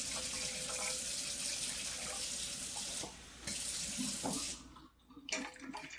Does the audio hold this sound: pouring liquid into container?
yes